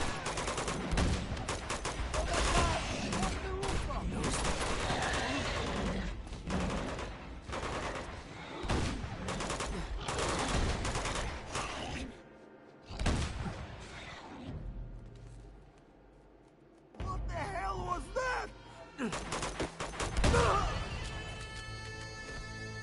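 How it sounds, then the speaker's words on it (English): Gunfire in the Uncharted 2 video game: long stretches of dense, rapid automatic shooting and overlapping shots, broken by brief quiet gaps, then more bursts under game sounds. "What the hell are they shooting at?"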